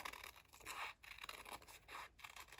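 Scissors snip through paper while a heart shape is cut out, giving a close, quiet run of crisp scratchy cuts in short bursts with brief pauses between strokes.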